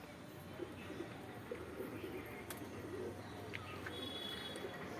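Native pigeons in a pigeon house under a tin-roofed shed, giving faint, repeated low coos heard from a distance over steady outdoor background noise.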